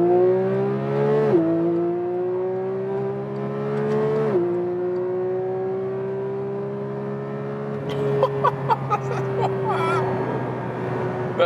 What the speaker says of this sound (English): So we start from 30 kilometers an hour in the track mode and let's see how fast it goes.